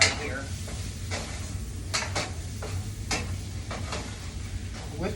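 Alfredo sauce going into a cooking pot for seafood stuffed shells, with a low steady sizzle and a series of clinks and scrapes of utensils against the pot, close by and without speech.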